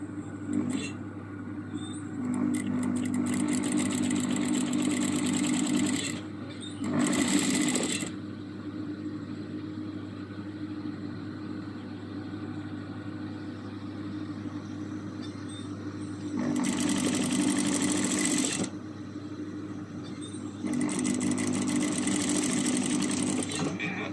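A sewing machine stitches a hem in several long bursts of rapid, even mechanical whirring. Quieter pauses fall between the runs, and a low hum sits underneath throughout.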